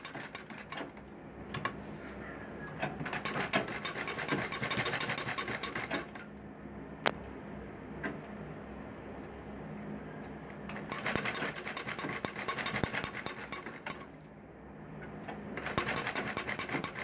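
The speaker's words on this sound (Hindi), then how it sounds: "जहाँ गोल है वहाँ पर गोलाई से हमें सिलाई मारनी है।" A sewing machine stitches the curved edge of a dori loops neck design, running in long steady bursts of fast mechanical whirring separated by short pauses, close and clear.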